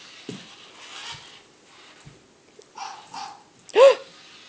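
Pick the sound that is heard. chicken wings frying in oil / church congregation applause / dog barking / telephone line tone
dog barking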